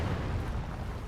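Panzerwerfer rocket explosions in Company of Heroes 2 battle, a brief dense low rumble of blasts filling the moment, loud and alone.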